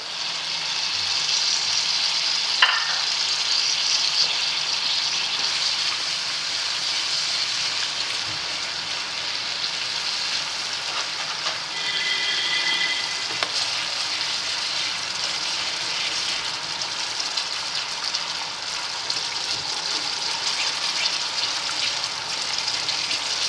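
Marinated chicken fries in gravy for a Delhi-style chicken barra curry, giving a steady, close sizzling hiss that carries on without pause and with no talking.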